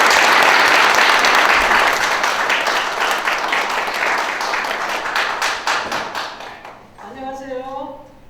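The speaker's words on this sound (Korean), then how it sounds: "큰 박수 부탁드리겠습니다" Big applause from a lecture audience greeting a Buddhist monk as he takes the stage, loud and dense at first, thinning into scattered claps before a voice begins speaking.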